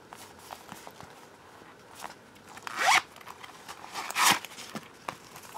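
A zipper on a lined Totoro pouch is pulled in two quick close zips a little over a second apart, with faint handling rustle around them.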